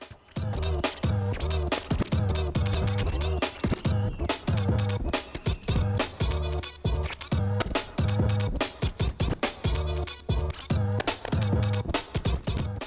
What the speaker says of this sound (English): The technicality in that beat juggle is absolutely insane.